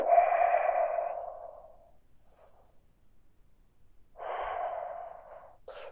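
Deep, slow breaths during a bear-hug stretch: a long breathy exhale, a pause, a short sharp intake, then another drawn-out exhale, close and clear with no talk.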